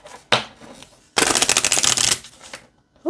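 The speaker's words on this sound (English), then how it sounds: "let's see how this shuffles." Goddesses oracle cards being shuffled close up: a short riffle, then a dense burst of flapping card snaps lasting about a second, followed by softer taps and slides.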